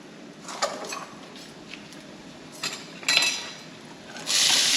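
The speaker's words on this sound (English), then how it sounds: "so to this same frying pan, I'm going to add my onions and bell peppers" Onions and bell peppers, chopped very small, go into a frying pan just emptied of chicken: scattered clinks and scrapes of utensil on pan, then a steady hiss of frying that builds louder near the end.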